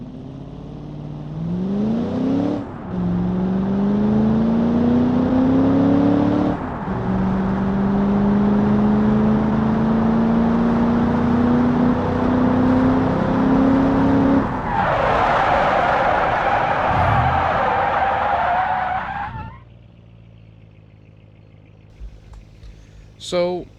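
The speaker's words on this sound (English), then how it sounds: "we're here at the drag strip with the 1967 Grant Falcon GT" A 1967 Grant Falcon GT muscle car in a BeamNG.Drive video game launches down a drag strip, its loud engine roaring and climbing in pitch through several gear shifts, then giving way to rushing road and tire noise before cutting out.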